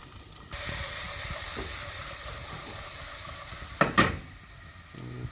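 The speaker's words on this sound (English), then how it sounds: "Turn that heat right down and then just saute them for 2 minutes." Red onions and wild garlic hitting a hot pan for nettle soup, a sudden steady hiss of sizzling that carries on, with a couple of sharp scraping clatters from stirring near the end.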